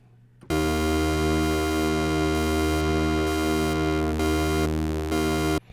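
A sustained buzzy Dune 2 synthesizer tone holds steady while a slow, rhythmic LFO wobble gradually fades into it over several seconds.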